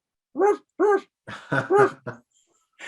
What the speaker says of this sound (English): I hear a barking dog.